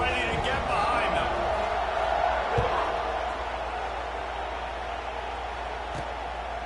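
Steady roar of a video game stadium crowd at a College Football 26 kickoff, a continuous broad wash of cheering with a few sharp thuds, under game commentary and talk.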